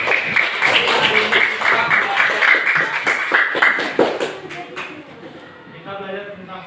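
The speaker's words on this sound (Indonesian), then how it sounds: "Tepuk tangan untuk Inaya." Students clap together in a classroom during a lesson, a dense burst of close handclaps for roughly four seconds that then thins out, with a teacher's voice speaking over and after it.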